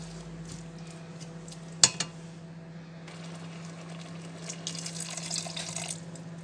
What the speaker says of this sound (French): Voilà, histoire de rincer aussi la cuillère